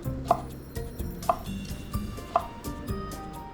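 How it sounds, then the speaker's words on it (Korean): A knife slices thin egg omelette strips on a cutting board for Spam gimbap, with three distinct chopping knocks spaced about a second apart over a low background hum. "지단을 적당한 크기로 썰어주세요"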